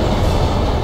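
A train rushes past in the video game Modern Warfare 3, producing a brief, loud, dense rumbling roar that fills the whole moment with no voices.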